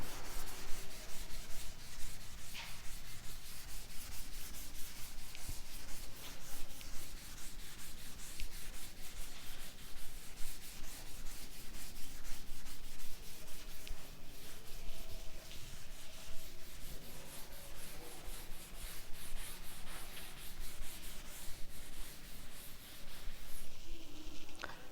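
Steady scratchy rubbing of an eraser or duster wiping writing off a classroom board, continuous and fairly close for the whole stretch, with faint room noise and no talk.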